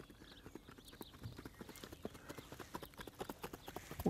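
Hooves clip-clop at a steady walking rhythm, fairly faint and continuous, each step a soft, distinct knock.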